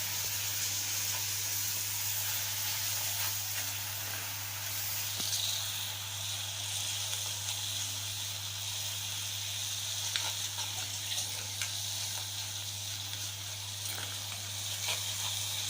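A coarse paste of onion, chili, ginger and garlic sautéing in hot oil over high heat, giving a steady, loud, close sizzle and hiss that runs unbroken with occasional faint crackles.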